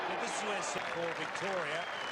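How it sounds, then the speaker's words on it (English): Applause from the crowd at a 1993 Australian football state game between Victoria and South Australia, a steady wash of distant clapping as injured player Paul Roos leaves the ground, heard under continuous commentary. "Paul Roos is getting clapped off the ground"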